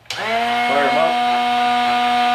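A Drill Doctor 750X drill bit sharpener switches on abruptly and settles into a steady, close, high-pitched motor whine, with a brief wobble in pitch as the bit is worked, running alone without talk.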